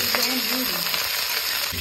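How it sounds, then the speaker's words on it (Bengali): Steady, dense sizzling of cauliflower frying in hot oil, with occasional stirring scrapes throughout. "এইবার কিন্তু কপি ভাজাভাজি হচ্ছে।"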